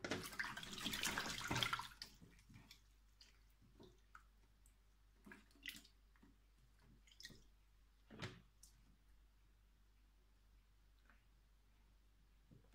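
Mushrooms are washed in water, with a brief, fairly loud splash and swish at the start, then faint, scattered drips and small wet handling sounds in a quiet room.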